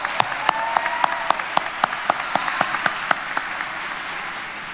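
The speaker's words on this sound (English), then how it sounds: "let's give your school, your university, your institution, and my new family a round of applause." Sparse, uneven clapping from a university commencement audience, individual sharp claps standing out at a moderate distance and continuing steadily for several seconds without voices.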